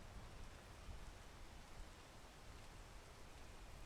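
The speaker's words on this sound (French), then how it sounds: "J'attends que cette pluie dégage et ça part." Faint, steady rain in the video game PEAK hisses evenly in the background, a soft continuous patter with no voices.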